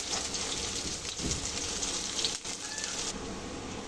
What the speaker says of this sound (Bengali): পেঁয়াজটা দিয়ে হালকা ভেজে নেব